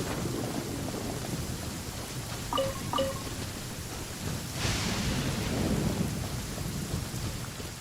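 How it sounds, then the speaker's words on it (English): Steady rain hisses across an outdoor area in Genshin Impact, with a rolling thunder rumble swelling midway and a couple of faint chime-like game tones; no one speaks. "Actually raining."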